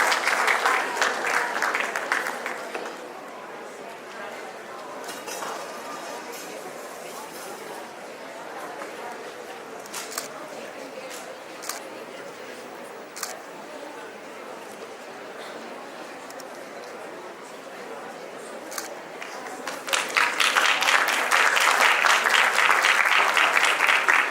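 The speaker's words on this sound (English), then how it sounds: "A huge round of applause for them." Loud applause for an award-winning army school at the Army Welfare Education Society excellence awards, heavy at the start, easing into a quieter stretch with a voice and scattered claps, then swelling into a full burst again at the end.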